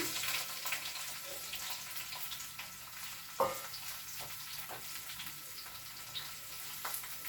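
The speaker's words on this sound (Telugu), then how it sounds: "ఇదిగోండి ఉల్లిపాయలు వేస్తున్నాను" Onions are frying in hot oil with tempering seeds and curry leaves, giving a steady, soft sizzle with faint stirring scrapes and one sharper clink midway, quiet and close, with no talking.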